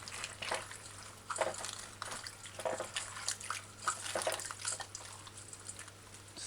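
Lettuce leaves rinsed under running water, with a soft, faint trickle and irregular splashes and rustles as the leaves are handled, close by and quiet.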